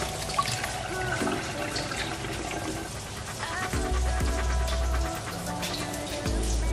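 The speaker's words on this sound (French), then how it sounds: "Je vais mettre ça dans une passoire pour enlever toute l'eau." Soaked red lentils drain in a colander, a steady close splashing and trickling of water that runs throughout, with faint tonal background sound behind it.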